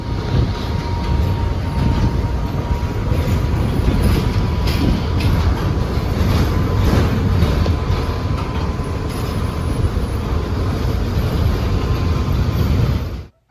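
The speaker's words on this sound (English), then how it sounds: "But these Tatras were still among my favorite trams to ride in Zagreb." An old Tatra tram rumbles along the streets of Zagreb, heard from on board as a loud continuous rolling roar with rattling wheels and faint squeals, ending abruptly, no talking.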